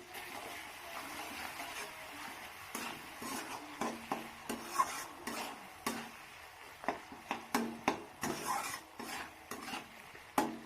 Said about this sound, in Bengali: মশলাটাকে এবার কষিয়ে নেব